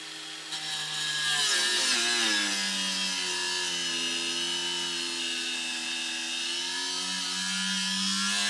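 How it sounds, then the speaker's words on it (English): A Bauer 2161CR-B brushless cordless angle grinder cutting under heavy load: a loud, close whining motor whose pitch sags as pressure builds, then holds a strained, steady tone throughout. "that's about all the pressure this grinder is going to be able to take"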